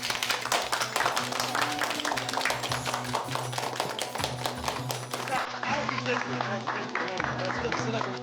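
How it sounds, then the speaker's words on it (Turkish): Group clapping in a Turkish family sitcom scene at an election rally: brisk, rhythmic, closely miked hand claps that run steadily throughout, mixed with voices and a low background tone. "Alkış!"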